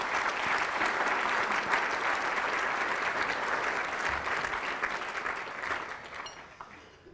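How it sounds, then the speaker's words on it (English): An audience at a university talk in Kelowna, British Columbia, claps in sustained, dense applause that fades out toward the end. "Let's give her a round of applause."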